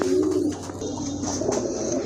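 Low, repeated pigeon cooing close by, a steady throaty murmur with a few soft chirps over faint background noise.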